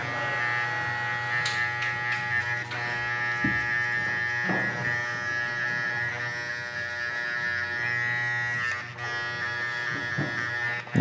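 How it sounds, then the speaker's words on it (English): An electric hair clipper buzzes continuously up close while cutting a skin fade at a barbershop, its steady motor hum shifting slightly as the blade moves through hair, with no speech. "And then I'll close the clipper just a little bit to get this line out."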